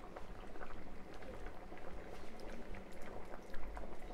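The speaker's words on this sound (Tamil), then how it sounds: "இப்போ நம்ம போட்ட சாம்பார் மசாலா வந்து நல்லா கொதிச்சு வந்துருச்சுங்க." A pot of sambar with sambar masala bubbling at a steady boil, soft popping and gurgling close by, moderately quiet and without speech.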